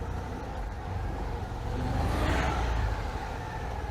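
Citroën 2CV engine runs steadily while driving, a close, even hum with road noise that swells slightly partway through.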